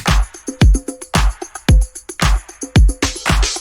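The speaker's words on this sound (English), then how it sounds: "As you can hear, the percussion really amplifies this drum loop." A full disco-funk drum loop programmed in FL Studio, with punchy kicks, snappy snares, crisp hi-hats and added percussion hits in a steady, driving groove across several bars, loud and upfront with no voices.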